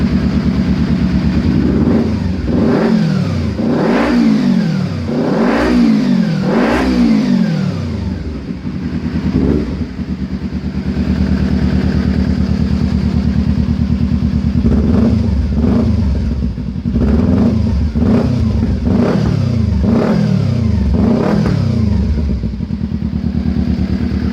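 A Kawasaki Z250 motorcycle with an Akrapovic exhaust revs loudly up close, its engine note surging and dropping in repeated throttle blips over a steady idle rumble.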